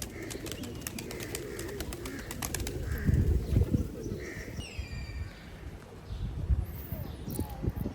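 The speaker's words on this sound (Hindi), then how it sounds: "हर दरबार की तरह मुल्तान के यहाँ भी कबूतर बहुत हैं" Pigeons coo and flutter at a shrine in Multan amid a busy outdoor murmur of people talking, with scattered bird calls and some clattering in the background.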